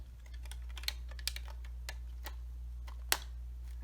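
LEGO NinjaGo pieces from the Destiny's Bounty set snap together in a string of small, faint, irregular plastic clicks over a steady low hum.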